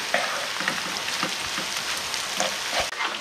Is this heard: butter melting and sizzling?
yes